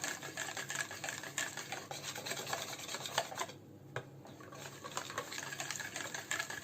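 A spoon stirring thin, runny sourdough popover batter in a bowl, giving repeated close scraping and sloshing strokes with a brief pause midway, with no talking.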